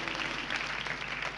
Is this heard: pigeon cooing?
no